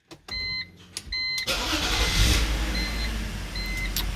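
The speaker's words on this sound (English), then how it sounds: "Then after that we start the engine." A BMW car engine cranks with short bursts, then catches and settles into a steady idle that continues to the end, close and alone.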